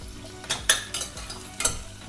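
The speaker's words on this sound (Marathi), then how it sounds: "कांदा टाकते." Chopped onion sizzles in a new, heavy stainless steel pressure cooker, a close, steady fry broken by a few sharp scrapes and clinks of a spoon stirring against the metal.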